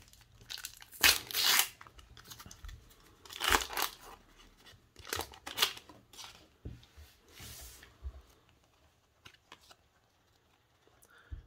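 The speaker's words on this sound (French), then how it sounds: "on va commencer par ouvrir ces paquets" Foil Panini Road to Qatar sticker packets are ripped open by hand, with several sharp crinkling tears in bursts separated by quieter rustling and handling, close and fairly loud against a hushed room.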